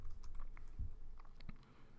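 Keystrokes on a computer keyboard while entering a Python if-else program, a soft uneven patter of taps with one or two firmer thumps, close and quiet, with no talking.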